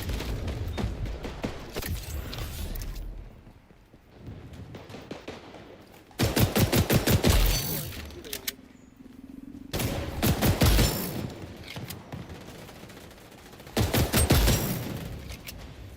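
M1911 pistol fire in the video game XDefiant comes in several rapid bursts of sharp, loud shots separated by short lulls, with background game noise between them.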